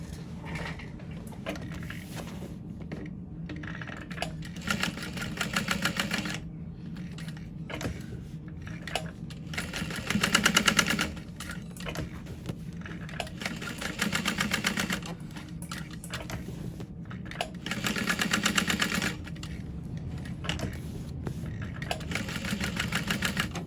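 A sewing machine stitching a fabric bow onto a bag, its steady mechanical whir running in several bursts with short pauses between, moderately close and without any talking.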